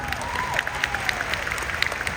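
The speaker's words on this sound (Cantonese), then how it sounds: "俾啲掌聲老闆啦！" Fairly faint applause from an audience at a business leadership talk, a sustained patter of clapping with a few sharper claps and faint crowd murmur underneath.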